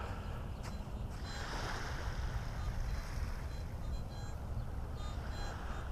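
A metal detector at maximum sensitivity passes over a nickel buried 16 inches deep in wet sand, giving a very faint, brief tonal response that is nearly buried under steady, loud hissing noise.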